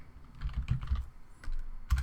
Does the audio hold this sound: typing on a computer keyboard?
yes